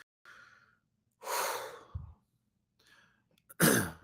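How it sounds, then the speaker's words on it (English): A person takes slow, deep breaths close to the mic, with a few soft airy inhales and exhales separated by silence and one stronger, louder breath at the end. No talking. "Take a deep breath in."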